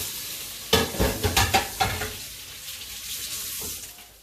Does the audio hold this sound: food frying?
yes